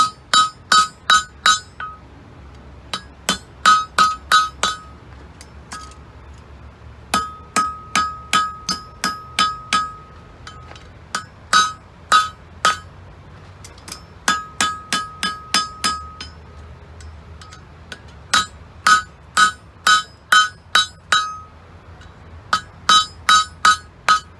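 Rapid bursts of ringing hammer blows on hot metal, forging an old wrench into a cap lifter, struck in quick clusters with brief pauses between, bright and clanging at close range.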